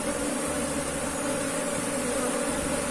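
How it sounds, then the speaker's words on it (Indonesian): Apis cerana honey bees swarming, a dense continuous buzzing drone that holds steady and fairly loud throughout with no voices. "ini pada swarming seperti ini daripada lebahnya"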